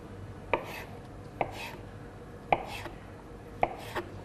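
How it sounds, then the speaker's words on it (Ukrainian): A knife chops potatoes on a cutting board: four crisp, evenly spaced strikes, close and clear, in a quiet room. "Після очищення картоплю Теж нарізаємо."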